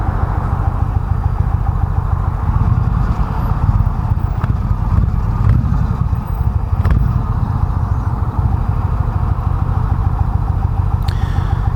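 A 2019 Indian Chieftain Limited cruiser idles with a steady, loud, low rumble through its stock exhaust. A few faint clicks and clatters sit over the continuous engine note.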